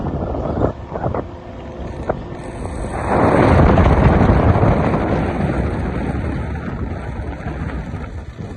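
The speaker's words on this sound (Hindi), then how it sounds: "स्कूटी पर चल रहे हैं ना, तो ठंडी ठंडी हवा लग रही है" Wind roars across the microphone while riding a scooter, a rumbling gusty noise that swells loudly around the middle and stays strong, with no one talking.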